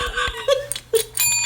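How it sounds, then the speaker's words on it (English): A small hand-struck bell sounds a few quick, bright dings close up in a quiet podcast room, each ring short and clear with brief decaying tones. "I'm just going to hit the bell real quick."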